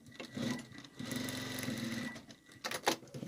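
A sewing machine stitches fabric for a kitchen oven mitt in short bursts, its close, rapid mechanical whir starting and stopping between pauses.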